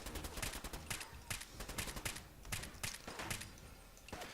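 Rapid bursts of gunfire from the video game Fallout crack out in quick clusters, sharp broadband shots repeating close and loud over a busy game background.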